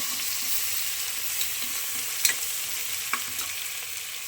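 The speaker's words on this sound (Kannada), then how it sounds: "ಇದು ಚೆನ್ನಾಗಿ ಬ್ರೌನ್ ಬಣ್ಣ ಬರುವ ತನಕ ಫ್ರೈ ಮಾಡ್ಕೋಬೇಕು" Two large chopped onions frying in a pan for spicy chicken biryani: a constant close sizzle with a few soft stirring scrapes, no voices.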